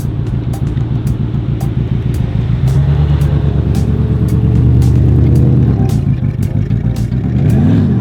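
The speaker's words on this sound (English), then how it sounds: "a Koenigsegg Regera pulling up." A Koenigsegg Regera hypercar pulling up, its engine a close, loud, steady rumble with rising and falling revs.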